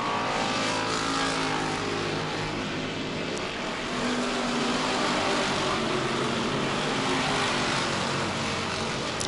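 Hobby stock race cars roaring around a New England oval track during a feature race, a steady dense engine drone that never lets up, loud and continuous with no talk over it.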